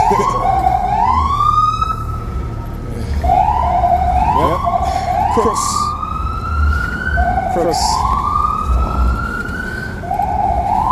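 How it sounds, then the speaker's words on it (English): A loud wailing ambulance siren rises and falls repeatedly nearby, its sweeping tones looping several times while a person briefly speaks underneath. "Ambulance."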